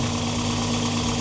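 A Toyota 22RE four-cylinder engine fitted with an LCE throttle body idles slightly high, a close, steady, even hum with a low rhythmic thrum and no talking.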